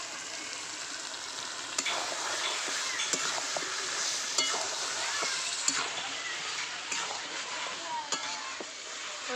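Mutton biryani masala sizzles steadily in a clay pot while being stirred, a continuous soft frying hiss with occasional scrapes and clicks of the spoon against the pot.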